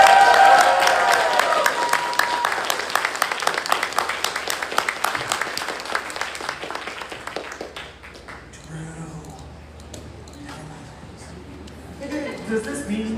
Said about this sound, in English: give a round of applause, shout, whatever the heck you want to say, to my staffers